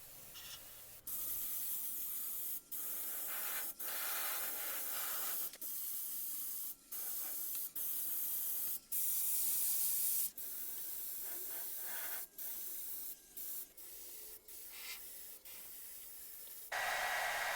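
An airbrush sprays fuchsia paint over flame artwork on a skull in repeated short and long bursts of close, steady hiss, with brief gaps between passes and no talking.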